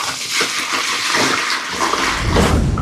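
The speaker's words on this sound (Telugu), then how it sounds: "సో ఇప్పుడు కొంత జలాన్ని అయితే ఇందులో నింపుకుందాం." Tap water pours steadily into a newly set up garden pond, giving a continuous close splashing rush with no talk.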